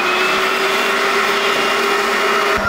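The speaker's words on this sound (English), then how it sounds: "suck all that filthy water out of there" A wet vacuum sucks water out of a shoe, roaring steadily at close range, a constant high whine with a gurgling suction edge, running without pause.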